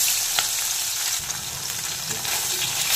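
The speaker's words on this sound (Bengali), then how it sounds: "তেল গরম হয়ে গেছে, তপসে মাছগুলোকে ছেড়ে দিলাম।" Loud, steady sizzling of topshe fish frying in hot mustard oil, a continuous crackling hiss with occasional sharper pops throughout.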